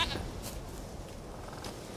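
A goat bleats in The Witcher 3 video game, a few short nasal cries over a low ambient hum, moderately faint and with no talking.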